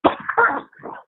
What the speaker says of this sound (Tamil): இன்னும் இருமல்